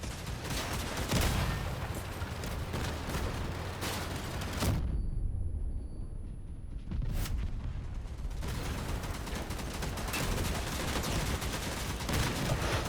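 Vehicle weapons firing in the Crossout combat game, a dense, continuous barrage of loud gunfire and blasts that briefly drops into a muffled lull before roaring back at full intensity.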